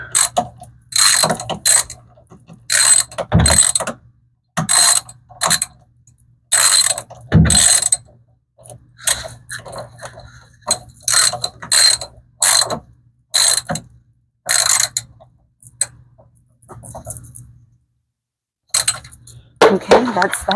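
Socket ratchet tightening bolts during a Samsung washing machine repair, giving repeated close clicking bursts in short rhythmic runs with brief gaps between strokes.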